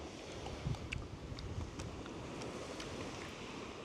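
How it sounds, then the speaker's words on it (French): Faint, steady wash of ocean water and waves on an Australian shore, with wind noise over the microphone and no voices. "Le bruit de l'eau, des vagues"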